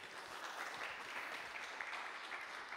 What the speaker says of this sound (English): Round of applause for him, very quickly.